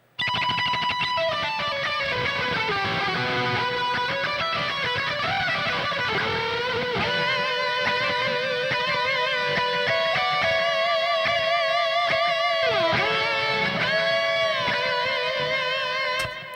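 A sustained electric guitar lead plays a melodic metal solo with bends and vibrato, bright and continuous throughout.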